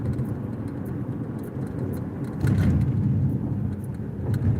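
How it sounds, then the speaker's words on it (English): A car driving along a road, with a steady low engine and road rumble filling the whole stretch and rising slightly partway through, with no talking. "I'm sorry, I'm driving."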